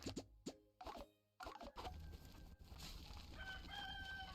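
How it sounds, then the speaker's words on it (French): A rooster crows in the video game Ratopia, a stylised cock-a-doodle-doo following a few plopping game sounds, clear and fairly quiet against low background music. "le coq a chanté"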